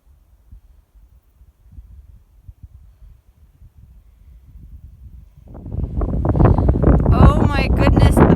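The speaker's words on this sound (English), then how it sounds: "the wind" Wind buffets a microphone on a high Colorado mountain peak, starting as faint low rumbles, then building into loud, heavy gusts for the last few seconds.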